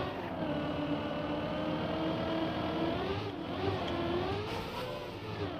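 Continuous whining car engine in a racing video game, holding a high, strained pitch with slight rises and falls as it accelerates, loud and steady with no talk over it.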